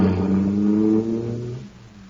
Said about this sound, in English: that cosmic surface car is really roaring